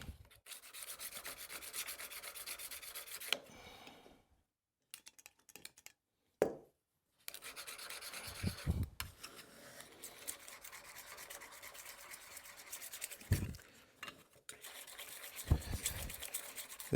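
A curved steel scraper is sharpened by hand, giving bursts of close, scratchy rubbing strokes with short pauses and a few sharp taps between them, no voices.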